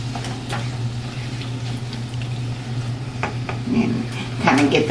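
Ground beef with peppers and onions sizzling steadily in a frying pan, with a low hum beneath and repeated scrapes and knocks as a utensil stirs the mixture.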